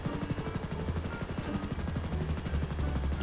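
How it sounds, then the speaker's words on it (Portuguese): A helicopter in the GTA 5 video game flies close by, its rotor blades chopping in a rapid steady rhythm over a loud engine drone. "Tá sambando com o helicóptero, hein? Controla isso aí."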